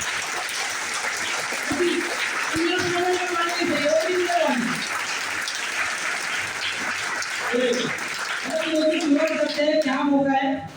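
An audience at a business seminar gives sustained applause, a dense wash of clapping that runs throughout while someone speaks loudly over it.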